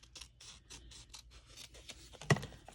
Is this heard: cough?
no